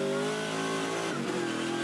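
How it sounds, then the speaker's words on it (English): A Trans Am race car's crate V8 engine roars at close range, a steady, loud, sustained drone with a slight pitch shift, heard alone during circuit racing in Sydney. "Crate V8 engine, you're riding with Thornborough"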